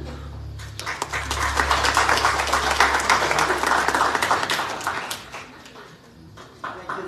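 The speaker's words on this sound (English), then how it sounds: "And then once more, round of applause." Temple audience at a Kavady festival gathering claps in a sustained round of applause, building to a steady mid-level wash and tapering toward the end, with a low hum underneath and a few scattered later claps.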